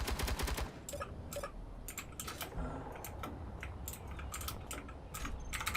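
Interior turret in Space Engineers loosing a quick burst of rapid gunfire, a series of sharp clattering shots in tight clusters through the clip, fairly quiet with game ambience underneath.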